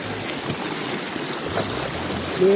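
River water flows in a steady, broad rush close by, with faint trickling and splashing mixed in and no voices.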